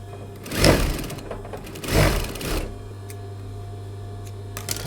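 A sewing machine stitching pinned dress pieces runs in two short, loud whirring bursts of rapid stitching, separated by a pause, over a steady low motor hum.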